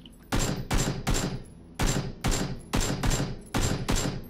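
Gunfire in PUBG: eight loud, sharp shots or short bursts fire in a steady, evenly spaced rhythm, each ringing off briefly, with no talk.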